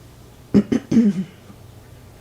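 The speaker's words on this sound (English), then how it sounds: "slowly my morning cough starts" A few harsh morning coughs up close during a yoga session, two short bursts followed by a longer rasping one, then quiet breathing.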